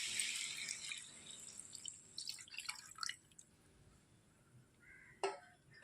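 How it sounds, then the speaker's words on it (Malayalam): One litre of milk poured into a pan of sautéed bananas for banana payasam, a soft liquid splashing and trickling up close that tapers off, ending with a brief clink. "ഒരു ലിറ്റർ പാലാണ് എടുത്തു വെച്ചിരിക്കുന്നത് അത് ഇതിലേക്ക് ചേർത്ത് കൊടുക്കാം"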